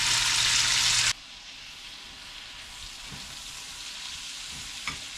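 Bacon frying with green peppers and onions in a pan: a loud, bright sizzle for about a second, then a much quieter low crackle for the rest.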